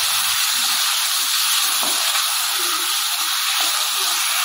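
Five fat slit green chillies sizzling in hot oil in a home kitchen while khichuri is cooked, a steady broadband frying hiss that holds evenly and fairly loud throughout, with no talking.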